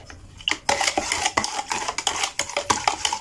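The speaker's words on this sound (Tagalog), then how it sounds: "Tapos, haluin po natin." A spoon stirs a homemade electrolyte drink of sugar, salt and a litre of water, clinking and scraping against the container in quick repeated strokes, close and fairly loud.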